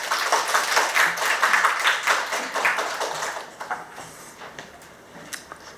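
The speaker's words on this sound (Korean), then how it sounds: "힘찬 박수 부탁드리겠습니다" Applause from an audience at a human rights forum session on out-of-school youth, a crisp burst of clapping that fades after a few seconds to a few scattered claps.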